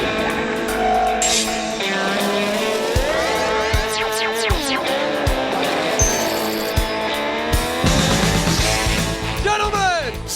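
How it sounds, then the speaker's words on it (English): NASCAR race cars roaring with loud, dense engine noise as they pass, pitch sweeping up and down through dopplering passes, constant and up close throughout. "Gentlemen, start your engines!"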